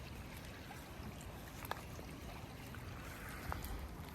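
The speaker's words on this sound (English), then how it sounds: "the little water flow is very soothing." Soft, steady trickle of flowing water from a small creek beside a winter campsite, faint and continuous, with a couple of light clicks.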